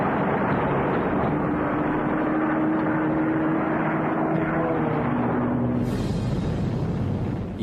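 A 1943 American bomber formation over Germany drones with a loud, steady propeller roar and a low engine hum. The sound cuts off abruptly near the end.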